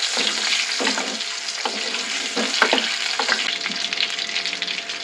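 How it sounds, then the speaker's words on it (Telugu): Boiled potatoes deep frying in hot oil while being stirred, a steady loud sizzle and crackle running throughout with scraping stir sounds and occasional pops, no voices. "దీంతో మనం కాస్త కదుపుకుంటూ డీప్ ఫ్రై చేసుకోవాలి"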